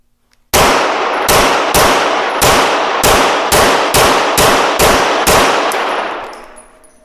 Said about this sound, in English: this is his first time ever pressing the trigger on a PC, or on a Sub2000 that he bought